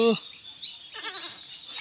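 A small young goat bought for 1500 taka bleats several times close up, with high, wavering cries that overlap with a voice.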